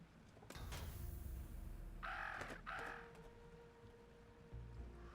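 Crows in the video game Jenny LeClue give a couple of harsh, loud caws close by, standing out against a low ambient game backdrop.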